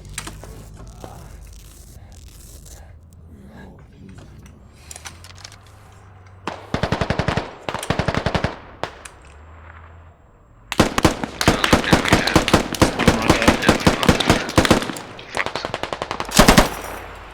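Gunfire in the video game Squad: loud, rapid automatic bursts in several clusters, separated by quieter stretches with faint background noise.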